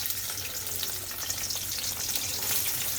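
Sliced onion fries in hot oil in a kadai, a dense, steady sizzle and crackle close up, loud and continuous with no talk.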